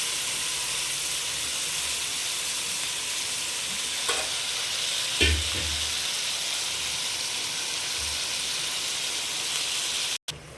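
Chicken sautéing in a pan, a continuous loud frying hiss close by, with a couple of brief stirring scrapes and knocks partway through.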